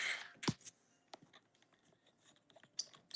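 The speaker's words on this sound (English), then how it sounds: "That's my tripod. That's a terrible sound." A camera tripod is shifted in a room where craft supplies are kept. It gives a few brief scraping and clattering knocks, fairly close, with quiet gaps between them and no talk.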